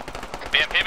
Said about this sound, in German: BMP beschossen